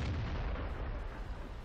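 A brief, deep, booming blast from a tank cannon firing on an E25 tank destroyer in World of Tanks, rumbling loudly and trailing off.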